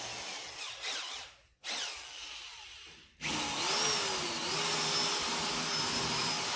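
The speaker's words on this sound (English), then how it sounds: "1/8" drill bit." A power drill with a 1/8-inch bit whirs in short bursts with brief pauses into rusted car sheet metal, then runs steadily at a high pitch, its tone dipping and rising as the bit bites in.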